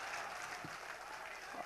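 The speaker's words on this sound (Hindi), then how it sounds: "और अब आपकी तालियां चाहूँगा।" Audience applause at a Hindi comedy poetry gathering, a quiet distant wash of crowd clapping with faint voices mixed in.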